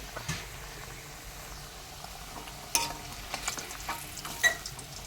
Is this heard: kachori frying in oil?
yes